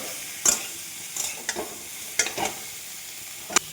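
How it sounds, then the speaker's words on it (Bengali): Green banana fries in a pan with green chilli and tomato while a spoon stirs it now and then, giving a handful of sharp scraping clacks over a faint, soft sizzle, close and with no talk. "হরা মির্চির পাউডার, কাঁচা ঝাল, আর একটা টমেটো দিয়ে এটাকে 2-4 মিনিট ভেজে নিতে হবে।"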